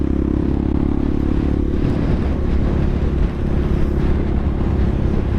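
A CSC TT250 motorcycle cruising on a freeway, its engine drone steady and loud, heavily mixed with rushing wind buffeting the microphone, with no speech.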